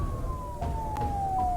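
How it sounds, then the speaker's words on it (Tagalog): A wailing emergency siren in a Filipino horror audio drama, sustained and sweeping downward slowly, steady and fairly loud over a low background rumble, with no voices. "Ilang sandali lang, dumating naman ang isang ambulansya."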